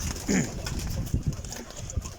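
Pigeons on a rooftop give a short cooing call up close, followed by soft scattered bird sounds and light shuffling over faint background noise.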